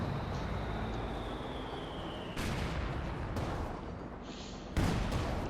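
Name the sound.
field gun firing in Company of Heroes 2 video game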